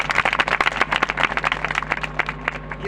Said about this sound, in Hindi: ताली बजा के उसकी महिमा।